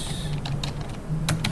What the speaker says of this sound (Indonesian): ngetik perintah yang sama